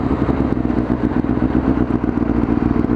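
A Cloud 900cc motorcycle being ridden, its engine droning steadily and close throughout with a dense, rumbling tone and slight mechanical clatter, no voices.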